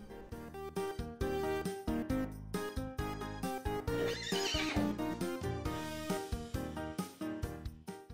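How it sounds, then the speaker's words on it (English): A horse whinnies within a bright cartoon-style music track, the neighing mid-clip partly blended with rhythmic instrumental chords and percussion for the full length. "Can I ride that horse?"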